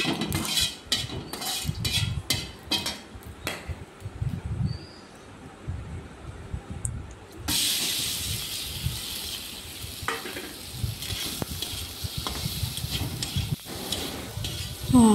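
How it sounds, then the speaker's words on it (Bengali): Turmeric- and salt-coated potatoes frying in a pan, with a soft steady sizzle under frequent clinks and scrapes of a utensil against cookware, continuing throughout at close range. "তো এবার এই নুন হলুদ মাখা আলুগুলি এবার একটু ভেজে নেব"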